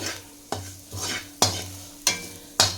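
Onions with coriander powder, chilli powder and salt are stirred in a frying pan, a spoon scraping through them in four or five distinct strokes over a steady low sizzle, close and with no talking.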